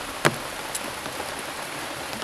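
Light rain falls as a steady, even hiss close by, with a single sharper drop or tap early on.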